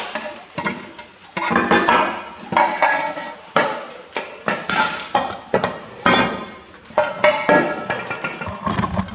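Loud, irregular metallic knocks, clanks and scrapes come as parts are driven out of the rear differential housing of a Massey Ferguson 135 six-speed tractor under restoration, in close bursts with short pauses between.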